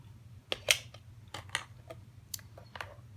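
Scissors snip through a nylon zipper stop, giving a few sharp close-up clicks and cuts spread unevenly over a quiet background hum, with no speech.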